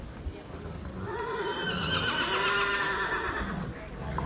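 A horse whinnies loudly and at length at a thoroughbred sale show while the lot is presented, the call rising and wavering for a few seconds over low crowd and handler noise.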